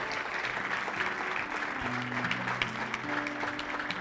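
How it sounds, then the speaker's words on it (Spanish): A church congregation at an online service applauds in praise of the Lord, sustained and fairly even clapping from many hands, moderately distant, with faint voices murmuring underneath. "Dale un aplauso al Señor, grande."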